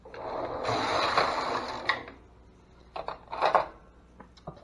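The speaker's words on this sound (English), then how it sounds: "All I have to do is thread my carriage and knit that first row." Knitting machine carriage pushed across the needle bed for the first row, a long rattling mechanical sweep followed by a few shorter clacks and slides, close and alone.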